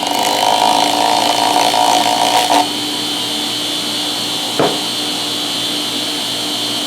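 A motor-driven polishing wheel dressed with polishing compound runs steadily as a knife blade is held against it on a budget DIY sharpener, a continuous loud whirring hum with a brief surge near the start and a short knock partway through.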